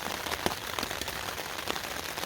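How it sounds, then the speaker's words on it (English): Steady cold rain falls on the Appalachian Trail during a storm, a dense, even patter with scattered sharper drops close by and no voices. "get out of the rain, maybe wait out the bad part of the storm"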